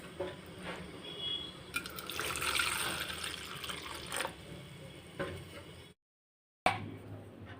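Water is poured over a gooseberry-sized lump of tamarind to soak it for sambar, a close, splashing, trickling flow that swells and fades, then cuts out abruptly before a short final splash.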